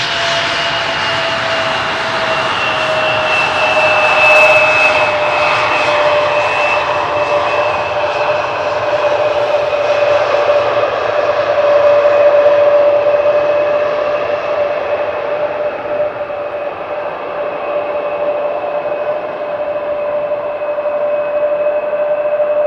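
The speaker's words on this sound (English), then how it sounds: "No reverse thrust for this Embraer." An Embraer jet lands at Amsterdam Schiphol on runway 18R without reverse thrust, giving a loud sustained engine roar with steady whining tones that slowly fades as the aircraft rolls out.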